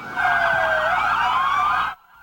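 A loud wailing siren sweeps up and down continuously, several overlapping tones, then cuts off abruptly near the end.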